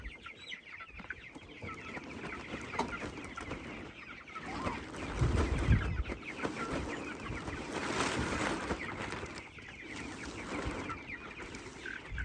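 Chickens cluck and mutter as their mobile chicken tractors are dragged across a farm field, close and busy, with shuffling and thumping from the moving pens and a louder knock midway.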